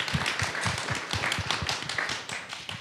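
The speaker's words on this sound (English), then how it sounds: "I would just like to give him a round of applause" An audience applauds, a steady patter of many hands clapping that holds fairly evenly, then fades slightly toward the end.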